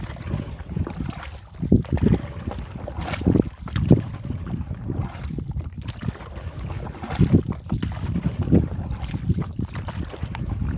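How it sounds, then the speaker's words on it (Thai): Strong wind gusts and buffets outdoors by the sea during a coastal crab-trapping outing, a continuous low roar that rises and falls unevenly with no voices. "ลมแรงมากเลยนะ เกิดพายุที่ไหนก็ไม่รู้"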